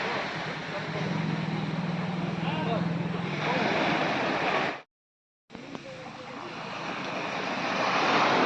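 Sea waves roll in and crash on Havelock beach in the Andaman Islands, a loud, continuous roaring wash with wind buffeting the microphone and a brief cut to silence midway.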